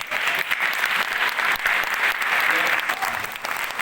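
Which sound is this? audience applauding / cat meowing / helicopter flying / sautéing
audience applauding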